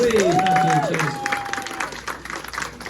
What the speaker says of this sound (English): let's have a big round of applause for Luke Moore